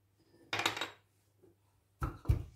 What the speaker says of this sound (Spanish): Y lo vamos machacando todo bien.